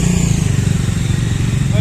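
Motorcycle ridden at night by a friend, its engine buzzing steadily and loud close by with a throbbing low rumble, heard under a person talking.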